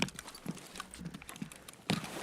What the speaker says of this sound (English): I swear I heard an extra footstep.